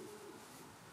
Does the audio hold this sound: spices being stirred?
no